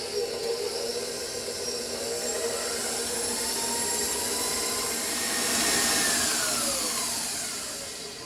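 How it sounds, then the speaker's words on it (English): An electric mixer with a whisk attachment whirs steadily as it combines liquid ingredients for gluten-free biscotti, a continuous high motor whine that swells slightly toward the end, with no talking. "we're going to just whisk this up and combine it"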